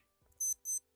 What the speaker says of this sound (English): Something is beeping. I don't know where. Oh, I see. I found the beeping.